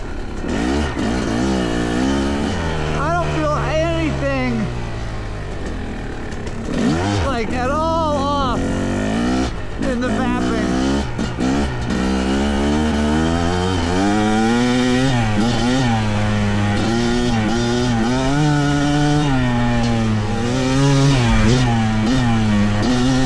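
Fantic XE300 dual-sport motorcycle engine revving from idle after an air-screw adjustment, repeated rising and falling revs with a buzzing single-cylinder tone, close and loud throughout.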